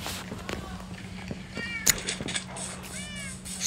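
Cats in the video game Minecraft meowing repeatedly, several short mews scattered through, moderately loud over a steady background hum with occasional clicks.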